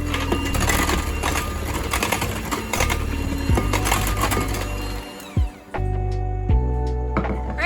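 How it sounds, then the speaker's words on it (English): An electric hand mixer beating whoopie pie batter with buttermilk in a bowl, a loud close motor whir with rattling beater clatter, briefly stopping and restarting near the end. "Mix it up with that mixer."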